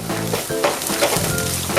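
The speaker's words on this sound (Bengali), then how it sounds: "ভালোভাবে ফ্রাই হয়ে গেছে সব উপকরণগুলোই।" Ingredients for a children's tiffin pasta fry in a pan with a steady, dense sizzle, broken by a few brief stirring clinks, close and continuous throughout.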